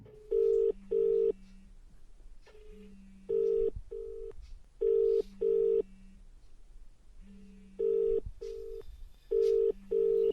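Outgoing phone call: a series of paired electronic ringback tones repeat at a steady rhythm, clear and close, with short dial-tone-like gaps between rings and no one speaking.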